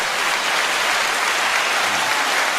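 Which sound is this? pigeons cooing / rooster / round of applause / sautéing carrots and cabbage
round of applause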